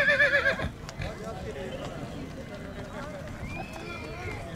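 Horses in a traditional race in Kastamonu, Turkey: a loud close whinny opens, then hooves clatter in a rapid drumming run under a crowd and a commentator's voice.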